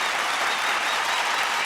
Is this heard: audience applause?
yes